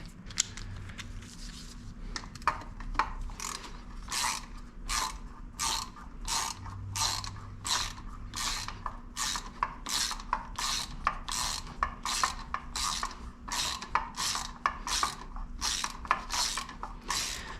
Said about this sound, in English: I'll switch over to the hand wrench here.